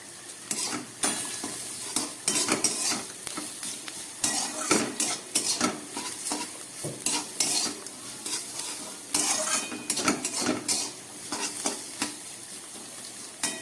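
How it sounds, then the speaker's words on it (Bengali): Carrot and potato fry with roasted cumin in a pan for flattened-rice pulao: a metal spoon stirs and scrapes constantly, with clattering against the pan over a soft, continuous sizzle. "গাজর আর আলু এবার দিয়ে দিচ্ছে একটু ভাজা জিরে"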